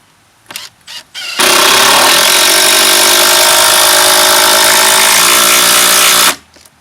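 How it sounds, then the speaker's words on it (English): A Makita DTD171 impact driver drives a long 100mm 14-gauge stainless batten screw with no pilot hole, a loud continuous rattling hammer lasting about five seconds after a few short trigger blips, then stopping. "it'll drive 100mm 14 gauge stainless batten screws all day long without a pilot hole"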